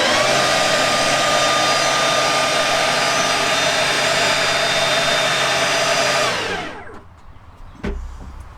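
Stihl BGA 85 battery leaf blower running nearby: a steady high-pitched whine over a broad airy rush for about six seconds, then spinning down and cutting off, followed by faint handling noises.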